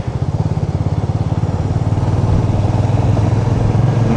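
Motorcycle engine running steadily while riding a mountain road from Narkanda to Sangla in Kinnaur, a loud, continuous close-up drone with a throbbing low pulse and rushing wind, no talk over it.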